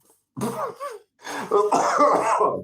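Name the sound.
man coughing from a tickly cough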